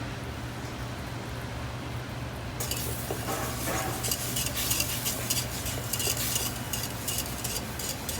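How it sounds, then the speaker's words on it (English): A sauce for mussels is whisked in a pan, a soft steady simmer first, then busier scraping and clinking from the whisk against the metal pan for the rest of the clip. "Whisk that."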